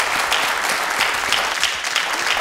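A concert audience gives a steady round of applause for the leader of a folk ensemble, dense and close, continuing evenly without any speech.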